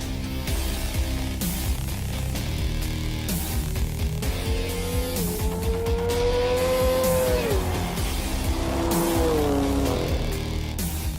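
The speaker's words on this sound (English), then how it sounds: "it's time for a good old-fashioned drag race" A BMW S1000RR motorcycle and a BMW M4 GTS car drag racing, engines roaring loud and continuous as rising, shifting engine tones climb through the gears, with tire noise throughout.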